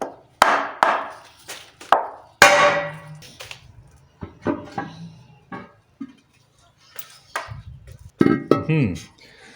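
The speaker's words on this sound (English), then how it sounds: "So now here, tap here onto the sump." Metallic taps and clangs on the oil sump of an Alfa Romeo 75 with its 1.6 twin-cam engine, all bolts removed, sounding as a series of sharp, close knocks spread across the clip with pauses and some talk between them.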